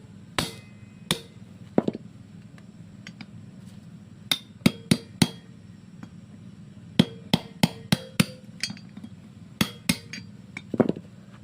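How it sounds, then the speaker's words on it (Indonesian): Hammer blows on a folded piece of plastic cut from a used oil bottle, laid over a clip on a Honda Supra Fit engine part: about fifteen sharp, close knocks in irregular bursts, loud and alone. "Lalu kemudian kita pukul menggunakan palu ya."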